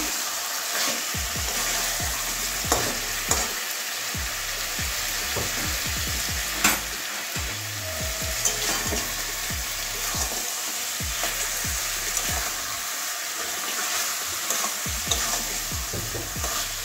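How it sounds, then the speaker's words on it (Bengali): Chicken being sautéed with poppy seed paste in a pan for a Bengali-style curry, a close sizzle with repeated scraping strokes of a spatula stirring at a steady rhythm, no voices. "আবারও কষিয়ে নিচ্ছি।"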